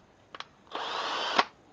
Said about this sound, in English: my hammer drill that is also a drill, so I'll just go ahead and do that